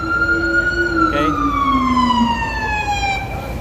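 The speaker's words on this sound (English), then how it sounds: "So there's another ambulance who came." An ambulance siren wails on a rainy Midtown Manhattan street, a loud, steady falling tone held close throughout over constant traffic and rain hiss.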